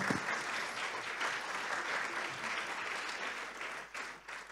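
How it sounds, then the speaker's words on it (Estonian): Audience applause filling a hall after a stage talk, a dense steady clapping that holds for several seconds and then begins to thin out toward the end. "Jah, teeme aplausi"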